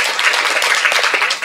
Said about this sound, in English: I'm glad you applauded